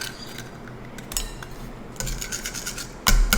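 A whisk clinks briskly against a bowl as a raw egg is beaten into warm pumpkin mixture with vanilla, in quick bursts of metallic scraping that grow louder and denser toward the end.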